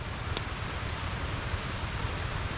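Steady rain falls on a bitter gourd farm, a soft, even hiss of drops with a few light taps on a surface and no talking.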